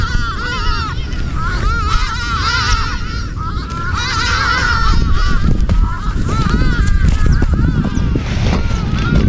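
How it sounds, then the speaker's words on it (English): A flock of birds honks loudly and without a break, with goose-like calls layered over one another, and some voices murmur underneath. "the birds are going, making a lot of noise"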